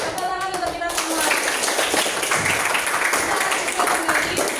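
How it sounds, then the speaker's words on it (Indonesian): Students in a classroom lesson clap their hands together, with a few rhythmic claps at first and then a steady burst of group clapping. "Tepuk tangan untuk kita semua."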